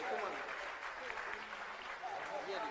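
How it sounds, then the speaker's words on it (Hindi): An audience at a religious Ram Katha gathering claps together in a sustained, moderately loud round of applause, with voices mixed in beneath the clapping. "जोरदार तालियां।"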